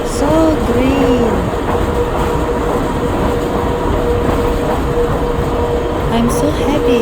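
The Pilatus cogwheel train grinds steadily up the mountain, a loud continuous rolling rumble with squealing metallic tones rising and falling near the start and again toward the end.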